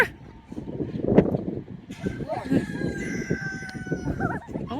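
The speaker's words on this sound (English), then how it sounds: "That chicken right there, the chicken coop looks like ours." Chickens at a farm with a coop cluck and crow close by, under talk from several people, with a busy mix of bird calls running throughout.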